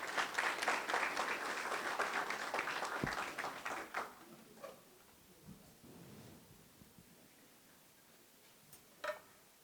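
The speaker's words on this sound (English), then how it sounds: "Please give her a round of applause." Audience at a JROTC military ball applauding for a welcomed speaker, a dense roomful of clapping for about four seconds that then thins out to a few scattered claps in a quiet hall.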